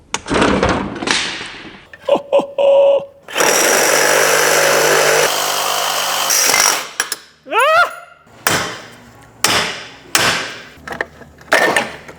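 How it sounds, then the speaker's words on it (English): An electric saw grinds loudly through a badly smashed crash bar on a wrecked junkyard V8 car, coming in long harsh bursts broken by pauses, clanks and sharp knocks, with a few loud squeals. "that's why we're resorting to the dangerous electric saw"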